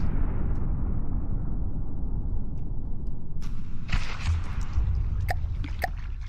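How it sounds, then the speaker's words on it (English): Big explosions in a video game, heard as a sustained low rumbling roar with a few sharp crackling bursts near the end, playing alone without talk. "Big explosions."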